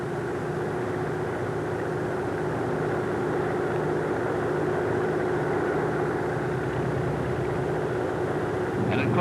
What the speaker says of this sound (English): A clean wing takeoff like this will require a relatively long run.